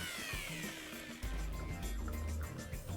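A grinder sharpens a red stump grinder tooth with coolant, a continuous close grinding whir with a deeper low drone that settles in partway through, heard without speech.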